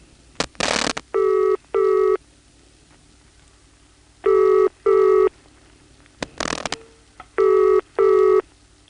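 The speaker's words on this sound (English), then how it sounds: "It's a step line finder noise, and those are all over Bill's step office." In a 1977 step-by-step telephone office in Jacksonville, North Carolina, a line finder makes a few short mechanical clattering bursts, interleaved with paired bursts of a steady buzzing tone that are loud and close.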